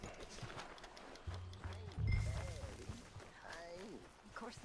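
Horse hooves clip-clop in the Western open-world game Red Dead Redemption 2, a few uneven thuds at mid distance under game ambience, with a voice speaking over parts of it.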